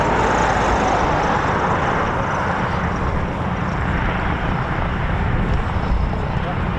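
A Eurofighter Typhoon FGR4 jet landing at RAF Coningsby gives a loud, continuous broadband engine roar, steady throughout, with voices nearby.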